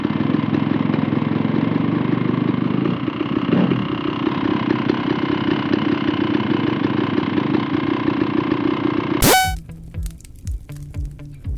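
A dirt bike engine runs at a steady, loud idle with a buzzing mechanical drone, close by, for about nine seconds. It then cuts out, leaving a few faint clicks and rattles.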